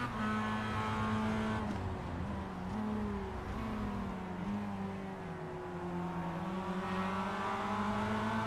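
Race cars driving through turn 12 at COTA in a racing video game, their engines droning steadily with overlapping tones that rise and fall as the cars brake and accelerate through the corner.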